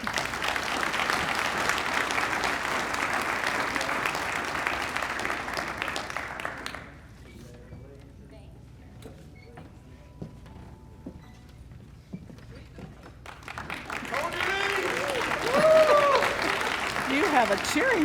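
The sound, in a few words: audience applause and cheering at an awards banquet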